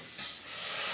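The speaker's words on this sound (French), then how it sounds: "je vais tout de suite mettre de l'eau dans la casserole pour le nettoyer." A brief, steady hiss of water poured into a hot saucepan, rising slightly and holding for about a second.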